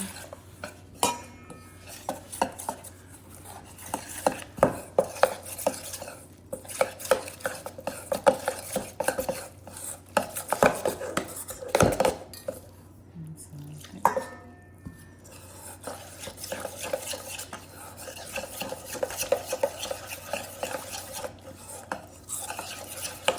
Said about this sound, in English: Mix the batter up with some water.